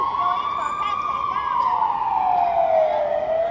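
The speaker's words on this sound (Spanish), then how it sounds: "sirena." An emergency vehicle siren on a Budapest street, a loud, steady wail sliding slowly downward in pitch as it passes nearby over traffic hum.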